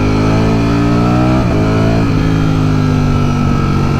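A BMW M1000R or Ducati Streetfighter V4 S engine revs loud and close while riding, with a steady harmonic drone that rises, dips sharply twice and settles into a lower sustained note.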